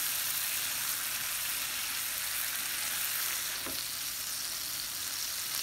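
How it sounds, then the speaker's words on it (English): Pad thai rice noodles with tofu stir-frying in oil in a wok, a steady close sizzle throughout with a soft scrape of stirring partway through. "Just stir fry only."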